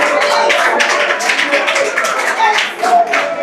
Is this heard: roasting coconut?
no